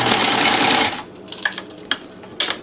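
A NELCO L 400 zigzag sewing machine runs a longer stitch in a fast, loud whirring burst, then drops to quieter intermittent clicks and mechanical taps.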